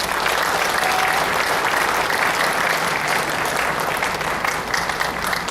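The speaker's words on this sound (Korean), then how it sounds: "옆에 계신 분들한테도 다 격려의 박수 해주시기 바랍니다" Loud, sustained applause fills a church sanctuary as the congregation claps in celebration during a Korean worship service, a dense and even wash of hands throughout.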